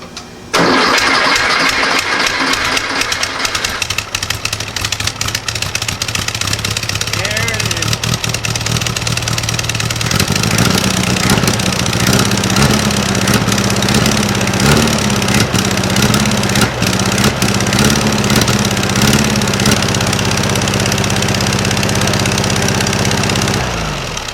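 An old 1956 VW Beetle air-cooled engine cranks, catches and settles into a loud, steady idle that runs throughout, close to the listener, with a voice speaking briefly near the start.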